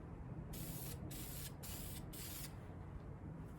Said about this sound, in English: It's uneven spray coming out, uneven colour. It's spattering.